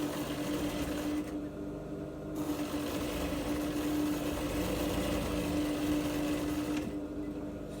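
A sewing machine runs steadily, stitching the side seam of a corset with a constant motorized whir, pausing briefly twice, close up with no talking.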